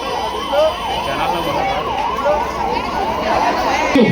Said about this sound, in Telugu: Please give way to ambulance.